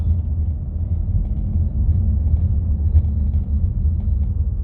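A Citroen C5 X7 rolls over a rough road surface on a rainy June day, heard from inside the cabin as a steady, loud low rumble of tyre roar with no talk over it.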